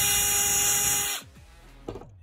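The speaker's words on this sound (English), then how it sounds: "drill an 8mm hole in the center of the can clip" A small drill runs at high speed for about a second, boring an 8mm hole in a can clip over scrap wood, then spins down and stops, followed by a couple of faint knocks.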